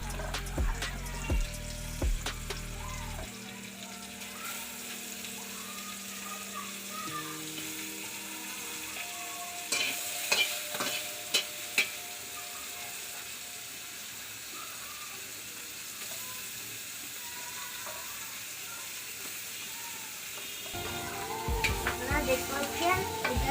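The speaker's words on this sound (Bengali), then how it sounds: "এবার আমি চিংড়ি মাছটা এই কড়াইতে ছেড়ে দেবো" Shrimp hits the hot oil in a kadai and fries with a steady sizzle, broken by a few sharp clinks and stirring knocks. A brief bubbling stretch comes near the end, and nobody talks.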